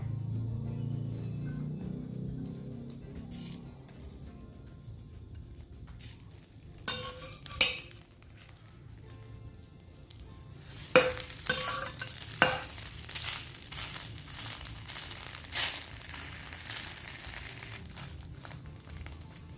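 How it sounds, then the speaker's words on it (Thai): Thai shrimp paste roasting in a pan, a quiet frying sizzle broken by scattered scraping and clinking of a utensil against the pan, with the movement getting busier in the second half and no one speaking. "นำกะปิลงไปย่างให้สุกหอมดีเลยนะคะ"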